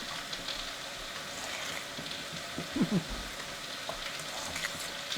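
Peachy pork chop mixture with ranch dressing mix sizzling steadily in a pan as it is stirred, a soft continuous fry with a few faint scraping clicks near the middle.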